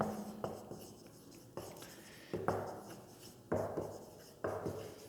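Chalk or marker strokes on a board during a Class 12 maths lesson on expanding determinants, with several distinct scratchy strokes starting one after another at a steady pace, close and fairly quiet, without talking.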